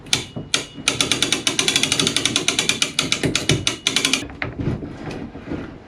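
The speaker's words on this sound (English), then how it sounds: "Let's personally thank the man who came up with this idea of ratcheting wrenches like this." A ratcheting wrench clicks rapidly and steadily during boat work on a keel winch, a crisp, close run of dozens of ratchet clicks for about four seconds, then slowing to a few spaced strokes.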